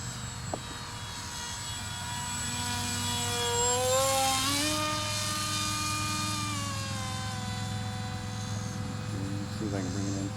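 A Foam Fighter Bird of Prey RC foam plane flies overhead, its small electric motor whining in a steady tone that rises and falls in pitch as it passes at a distance.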